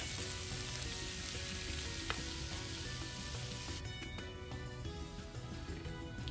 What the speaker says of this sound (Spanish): Ponemos nuestra carne y vamos a dorarla, que quede perfectamente bien dorada.